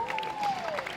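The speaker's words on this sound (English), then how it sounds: "And a big round of applause for Trent Tuma." A crowd at an international sports test series gives a brief burst of steady clapping, with a faint announcing voice underneath.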